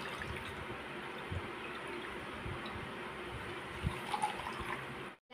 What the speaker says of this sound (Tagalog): Pigain ang t-shirt para mawala ang mga excess na tubig dito.